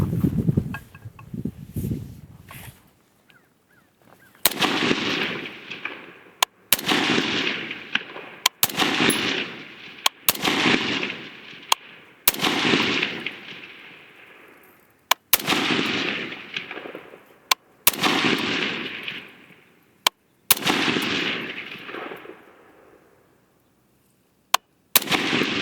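A Mk12-type rifle fires at a target outdoors, about eight or nine loud, sharp shots spaced a couple of seconds apart. Each crack is followed by a long rolling echo that fades before the next shot.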